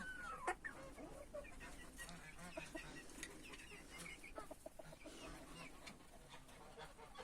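Chickens clucking and murmuring softly in a group, a steady low chorus of short calls, fairly faint and close by.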